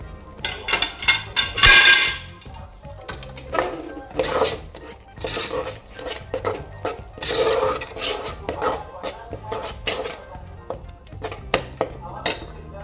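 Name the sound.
stirring masala for Malvani egg curry in a pan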